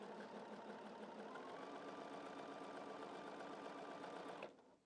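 A sewing machine stitching a quilt block runs in one continuous fast steady hum with a rapid needle rhythm, close and fairly quiet, then stops abruptly near the end.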